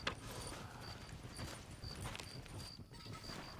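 Horse hooves clip-clopping in Red Dead Redemption, a quiet, steady walking rhythm of clops with a few faint metallic jingles mixed in.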